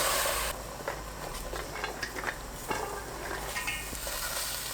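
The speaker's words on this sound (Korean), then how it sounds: "(30초) 뒤적거리고 불 끕니다." Sweet potato stems are stirred in a large pot of boiling soy sauce with raw sugar, salt and bay leaves, a steady bubbling hiss with scattered soft scraping and clinks of the utensil, no voices.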